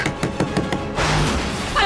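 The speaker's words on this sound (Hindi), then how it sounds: "कहीं दरवाजा पीट पीट के तोड़ ही ना दे।" Someone bangs on a door with a rapid series of about six sharp knocks. A brief rush of noise and a muffled voice follow.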